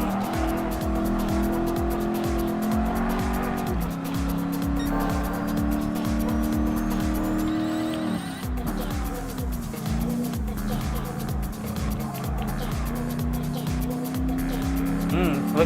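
Classic muscle cars such as a Firebird Trans Am race in an online lobby of Gran Turismo Sport, engines roaring steadily with shifting pitch and tire squeal throughout.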